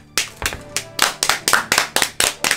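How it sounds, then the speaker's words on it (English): Roughly ten sharp, evenly spaced hand claps from a single person, close and loud with no talking, given as a round of applause after tasting food from a Japanese convenience store. "Daily Yamazaki deserves a round of applause"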